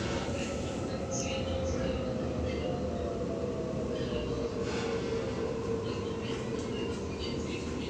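A Sydney T3 Bankstown Line train departs Campsie platform, a steady rumbling roll with a faint rising motor whine, heard continuously from inside the carriage.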